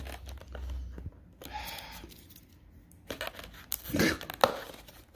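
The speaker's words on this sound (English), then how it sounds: "Let's just open this little seal thingy." A plastic seal on a Sega Genesis homebrew game package is picked at, crinkled and torn, with scattered rustles and scratches and a louder burst of tearing and crinkling toward the end, without speech.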